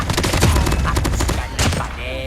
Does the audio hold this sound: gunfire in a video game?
yes